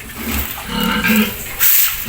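Pigs grunt in their pens on a small pig farm, loud and close, with a couple of short, rough grunts over about two seconds and no speech.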